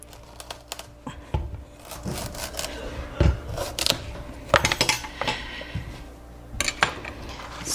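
Knife slicing a butternut squash in half on a kitchen cutting board, a series of close, sharp cuts and knocks of the blade against the board, uneven in rhythm with quiet rustling between strokes.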